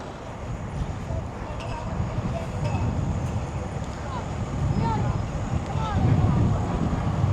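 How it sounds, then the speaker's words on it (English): Strong gusts roar across the microphone on a Manhattan street near the Apollo Theater in Harlem, a continuous rushing buffet that swells louder toward the end, with faint traffic and distant sounds beneath. "the wind has picked up again"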